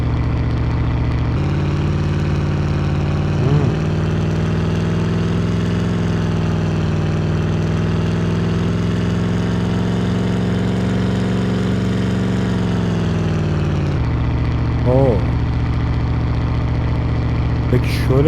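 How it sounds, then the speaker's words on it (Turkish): A car engine idles in a Unity driving game, a steady low hum that holds evenly throughout with slight pitch shifts near the start and end, loud and alone without talk. "Araba boştayken engine sound'unu ikiye düşür"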